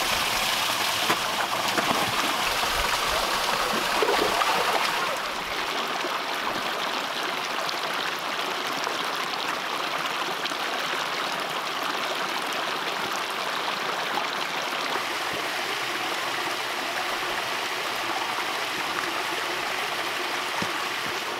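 A monsoon-swollen stream runs over a couple of small waterfalls, giving a steady broadband rushing and splashing that holds at a constant, fairly close level throughout.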